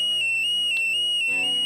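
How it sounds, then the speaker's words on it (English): An Arduino-driven alarm buzzer in a smoke-detecting fire bin sounds a steady, piercing high-pitched tone, loud and continuous, with a faint click partway through. "The Arduino sounds the buzzer"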